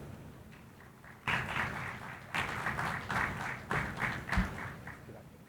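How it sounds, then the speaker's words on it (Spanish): An audience at an aquaculture conference panel welcomes a speaker with applause: a quiet pause, then a sudden burst of moderately loud clapping that keeps swelling and fading in waves. "a quien recibimos con un fuerte aplauso"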